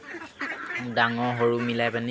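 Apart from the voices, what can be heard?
ducks quacking on a duck farm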